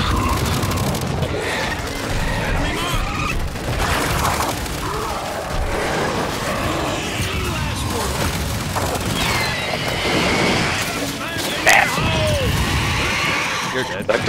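Gears 5 boss-rush combat rumbles with rapid gunfire, heavy booms and crashing impacts throughout, while someone talks over the action.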